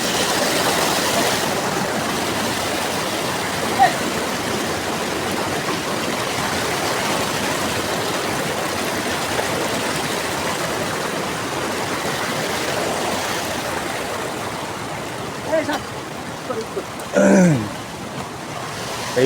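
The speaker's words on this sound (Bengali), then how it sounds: "এই যে এই ঝর্ণাটা ক্রস করতে হয় আমাদেরকে এমবিসি যাওয়ার জন্য।" Mountain waterfall stream on the Annapurna Base Camp trek between Dovan and MBC, a steady close rush of falling water that fills the whole stretch, with a few brief knocks near the end.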